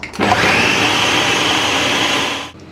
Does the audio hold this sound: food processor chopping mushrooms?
yes